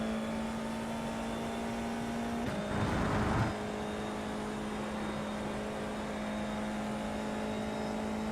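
Formula 4 race car engine in the iRacing sim, a steady sustained drone throughout with a brief louder burst of noise near the middle, no talking.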